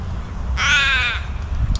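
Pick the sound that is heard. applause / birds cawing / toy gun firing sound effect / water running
birds cawing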